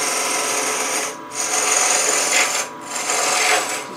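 A gouge scrapes bulk wood off a spinning blank on a lathe, a loud close hiss of cutting in long passes broken by two short pauses.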